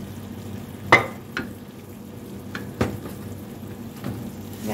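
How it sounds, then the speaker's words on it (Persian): Pitted dates are mashed into flour and toasted in a pan, making a low, dry frying hiss broken by a few scattered knocks and scrapes from the utensil. "و این خورما رو توی این آرد من همینجور له میکنم و تفت میدم"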